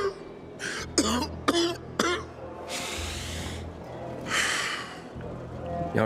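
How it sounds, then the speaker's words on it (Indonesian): A character in the video game Dying Light 2 coughs and clears the throat in several short, sharp bursts, fairly close and loud, followed by a longer breathy rasp, over a low steady game background hum. "Dia batuk-batuk."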